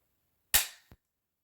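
A bolt-action rifle's trigger, around 3.5 pounds, is dry-fired again. It gives a crisp metallic snap up close, then a softer click a moment later.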